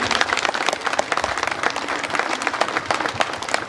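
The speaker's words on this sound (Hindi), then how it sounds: "तालियां बजाएंगे।" Audience applause at a jubilee celebration of the Ursuline Sisters in Gumla, with many hands clapping close and fast in a busy, uneven patter that holds steady throughout.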